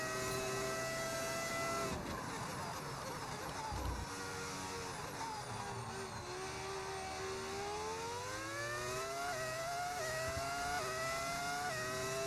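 Modded Formula 1 car engine in a racing game at the Canada circuit, a loud continuous high-revving whine with rising and falling pitch through gear changes, steady and close throughout with no talking.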